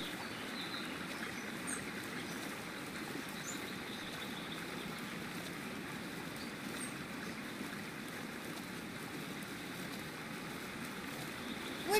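River water streams steadily as a character wades through a river in the game Eastshade, a continuous close rushing wash with no breaks.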